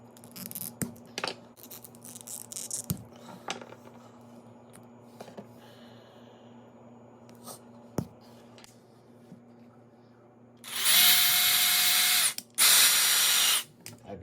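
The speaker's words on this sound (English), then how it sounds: "when it comes to drilling and things like that" Scattered clicks and handling noises, then two loud bursts of a small power drill whirring into an action figure's peg holes, each lasting about a second or more.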